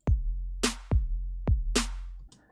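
A programmed kick and snare drum beat built in Ableton Live plays alone: three deep, booming kicks alternate with two bright, noisy snare hits in a steady kick-snare pattern, loud and close, ending abruptly.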